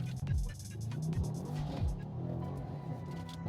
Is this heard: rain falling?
no